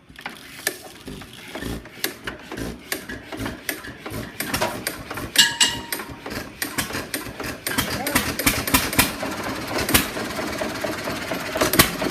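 Rapid mechanical clattering and chugging that builds, with irregular knocks and rattles of a choked 1937 John Deere 1-1/2 hp hit-and-miss engine turning over and running up close.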